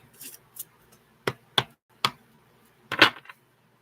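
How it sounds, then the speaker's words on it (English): A deck of playing cards is shuffled at a donation-only reading, heard as a handful of sharp, separate riffling snaps and taps spread across a few seconds in a quiet room, with the last burst the loudest. "I am just going to shuffle the deck."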